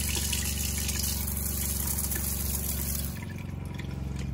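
Water gushes steadily from a tap in a camper van at close range, a continuous rushing flow with good pressure that softens slightly near the end.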